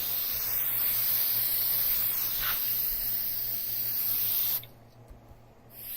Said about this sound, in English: I'm spraying in one direction from the other side with black spray paint